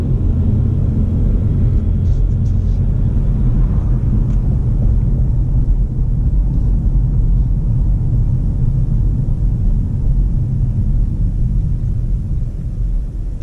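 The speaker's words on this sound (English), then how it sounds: "we're driving through downtown Louisville on a beautiful fall day" Interior cabin sound of a 2019 Toyota Camry driving through downtown Louisville on a fall day, with a steady low road and engine rumble and no talk.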